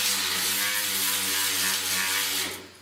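Power sander grinding on a rusty car frame during restoration, a steady loud mechanical whir with a continuous buzzing hum that holds for a few seconds and then fades out.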